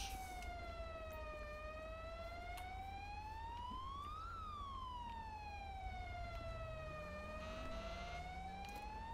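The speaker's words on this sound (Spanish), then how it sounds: "me apagáis la sirena, por favor" A police car siren in GTA V with the LSPDFR mod, on a Ford Focus ST of the Argentine Federal Police, wails in slow rising and falling sweeps, continuous and fairly quiet throughout.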